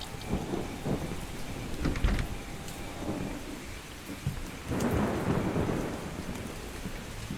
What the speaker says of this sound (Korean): 어, 비 온다.